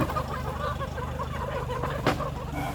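Chickens cluck and squawk continuously in a dense, noisy crowd while being sorted, counted and loaded into a truck, with a steady low rumble beneath and one brief louder burst near the end.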